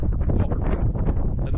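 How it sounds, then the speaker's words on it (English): Wind gusts across an exposed winter fellside near Great Gable in the Lake District, a strong, rough buffeting roar pressing on the microphone throughout. "The wind's coming my way though, so all the cloud is as well."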